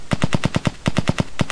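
Rapid machine gun fire from a video game built in Unity, around a dozen evenly spaced punchy shots in quick bursts with a short gap partway through, loud and dry.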